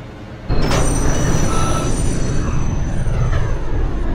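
An R160A L subway train starts rolling with a sudden rise to a loud, steady motor and wheel roar and a faint whine on top, in the OpenBVE train simulator game.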